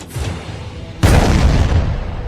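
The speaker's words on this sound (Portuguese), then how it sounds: "O segundo tiro indicava que eles tinham encontrado." A second signal shot booms from a ship's cannon at anchor, one abrupt loud blast that hangs on as a broad rumbling roar.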